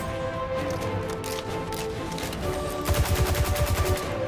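Mounted turret guns fire in the video game Destiny 2 during a Vanguard strike, a rapid automatic burst of sharp, loud, evenly spaced shots set against busy game background noise.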